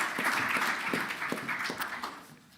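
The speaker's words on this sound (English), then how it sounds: "Let's give them a warm round of applause." A conference audience at an inclusive growth event claps for a panel, a dense steady patter of many hands held close and fairly loud, thinning slightly at the end.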